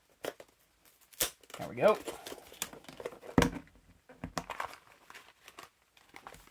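Double-taped cardboard blind box packaging for a Diecast Masters Cat mini playset being torn and crinkled open in bursts, with a person speaking briefly over the ripping.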